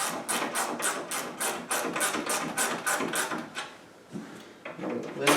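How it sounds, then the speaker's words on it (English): A Wera ratchet tightens a treadmill's tension, a little on each side, in fast repeated clicking bursts that pause and then resume, close and fairly quiet, with no speech. "A little bit at each side so it goes evenly. The ratchet is performing very nicely."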